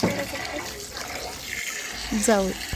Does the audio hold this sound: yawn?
no